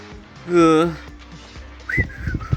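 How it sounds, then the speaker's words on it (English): A character in the video game Danganronpa Another gives a short rising whistle lasting under a second, followed by talk. "She just whistles."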